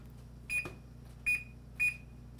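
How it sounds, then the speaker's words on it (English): Three short electronic beeps from an oven timer during turkey roasting, evenly spaced and clear over a low background hum. "Set the timer for 20 minutes."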